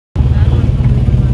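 A vehicle drives along a decent paved road on the way to a family home, its steady engine and road rumble loud and close throughout, starting after a brief moment of silence.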